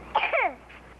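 A sick boy coughs once in a short, harsh burst with a voiced edge, in an indoor sitcom scene, followed by quiet.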